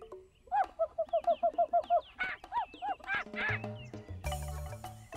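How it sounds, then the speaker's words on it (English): Monkey call in a children's cartoon: a rapid string of bright, repeated hooting cries that grows louder and wilder, then gives way to a short musical jingle. "Listen to how the monkey goes."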